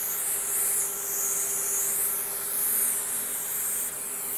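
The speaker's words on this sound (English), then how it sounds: "There's also an external vacuum hose that you can use to pick up any remaining debris." Hakko DPF-300 depaneling system running with its external vacuum hose open for suction, a steady close hiss of rushing air with a faint constant hum beneath, unbroken throughout.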